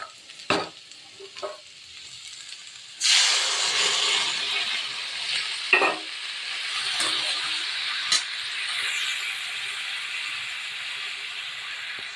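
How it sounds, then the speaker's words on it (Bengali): Water splashed into spice paste frying in a pan with cauliflower and potato, setting off a sudden loud burst of hissing sizzle that slowly settles into a steady bubbling fry, with a few stirring scrapes. "এবার আমি মশলাটাতে একটু জল দিয়ে দিলাম"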